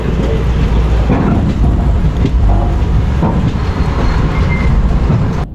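A train rolls along during the monsoon rain, a loud, dense rumble with steady rail clatter and wind noise filling the whole stretch.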